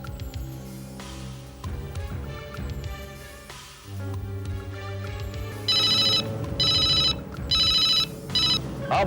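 A phone rings for an incoming call in a Hindi family drama, its electronic ringtone repeating in four loud, evenly spaced bursts over a background music score, with no talking.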